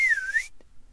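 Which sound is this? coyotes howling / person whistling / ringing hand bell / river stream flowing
person whistling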